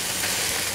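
Onion, harissa and garlic frying in a pan while being stirred, a brief steady hiss and sizzle, close and fairly loud.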